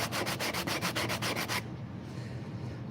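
Hand sanding with coarse 80 grit sandpaper, quick rhythmic rasping strokes, close and loud, that stop abruptly partway through, leaving quiet room tone.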